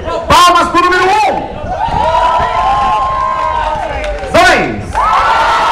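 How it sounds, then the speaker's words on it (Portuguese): A beach crowd at a Porto Seguro beach bar cheers and shouts loudly, with voices rising in whoops, a couple of louder bursts near the start and end, and music-like tones running underneath. "Palmas para o número 1."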